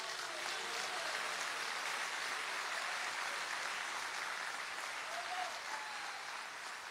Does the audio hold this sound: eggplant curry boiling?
no